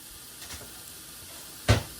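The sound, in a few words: meat sizzling as it is dumped into a hot pan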